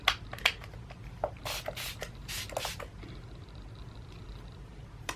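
Fix Plus setting spray goes on in a few short pump bursts, a close, soft hissing mist repeated several times at an irregular rhythm with faint handling noises between, and no talking.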